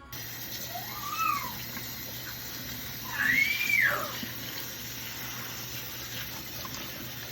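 Water running steadily while conditioner is rinsed out of curly hair, a continuous soft hiss close by. Two rising cat meows sound over the water partway through.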